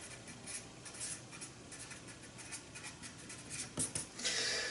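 Pen or marker writing by hand, jotting down a short word during a lesson on four-wheel-drive differentials, with a steady close scratchy rub and a few firmer strokes near the end, quiet and without talk.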